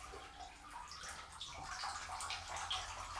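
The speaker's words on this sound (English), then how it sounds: "Let's pour the water out." Water gurgles and splashes as a small toy boat is tipped and drained, a steady close pouring and trickling that runs on for a few seconds with no talking.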